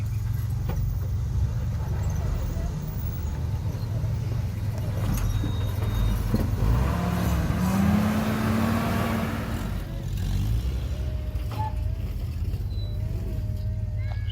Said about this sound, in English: Grandpa's Jeep coming down.